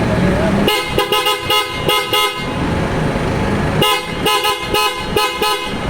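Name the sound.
pickup truck aftermarket horn honking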